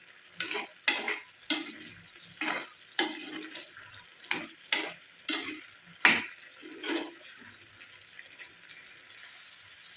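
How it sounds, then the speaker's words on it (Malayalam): A spoon stirs and scrapes a thick breadfruit (kadachakka) masala curry in a pan in repeated strokes, with soft sizzling underneath, ending in quiet. "ഇത് നല്ലതുപോലെ ഒന്ന് മിക്സ് ചെയ്ത് കൊടുക്കാം"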